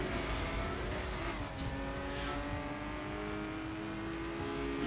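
Steady high-revving car engine held at full throttle while racing against other players in The Crew on PS4, a continuous loud drone with harmonic whine running alone without talk throughout.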